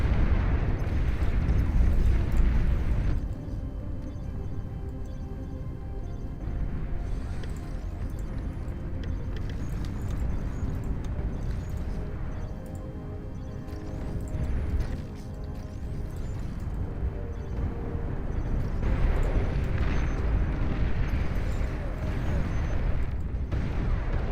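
Mortar fire in the real-time strategy game Beyond All Reason: a continuous rumble of layered explosions and artillery thumps, dense and steady throughout, with no clear talk over it.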